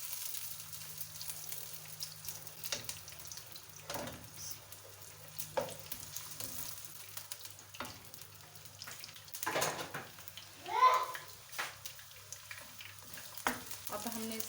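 Chopped onions sizzling in hot oil for a chickpea pulao, a steady close frying hiss with intermittent stirring scrapes and clatters throughout.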